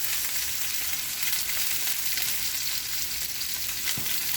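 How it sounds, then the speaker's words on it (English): Ahi tuna coated in cracked pepper, sesame seeds, garlic and ginger sears in hot oil, giving off a steady, close sizzle that holds evenly throughout, with one small pop near the end and no talking. "all that's cooking and searing right on top of that tuna"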